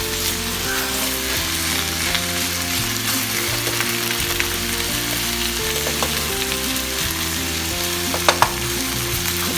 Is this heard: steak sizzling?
yes